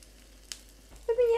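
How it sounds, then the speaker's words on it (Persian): Cooking oil crackles briefly in a pan as it is swirled to coat the sides, a faint tick first, then a louder sizzle rising in the last half second with a voice-like tone over it. "خب من یکم روغن میریزم این کف، اینجوری میچرخونم که دیوارهاش همه چرب بشه."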